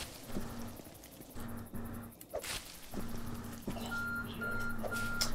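A timer alert in the Force of Nature survival game sounds as three evenly spaced, thin electronic beeps near the end, over ambient game wind, footstep crunches and a sharp swoosh earlier on.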